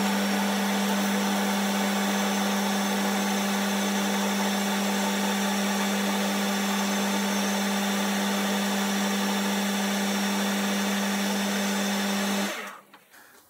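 A metal lathe runs steadily while machining a small spindle block, giving a constant motor hum with a strong low tone and hiss for about twelve seconds before it winds down near the end. No one speaks.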